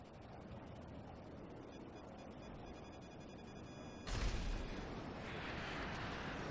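Gunfire and explosions in GTA V during an aerial dogfight flown in formation: a steady, noisy roar of fire and engines, then a sudden loud blast about two-thirds through, followed by a denser, continuing rumble.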